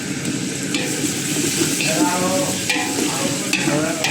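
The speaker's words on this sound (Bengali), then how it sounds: "রসুন দিয়ে নাড়াচাড়া দিয়ে 2 মিনিট রেখে" Garlic sizzling steadily in hot oil with onions and green chilies in a pan as fish and ash gourd curry is cooked, with periodic scraping strokes of a spoon stirring, loud and close without talk.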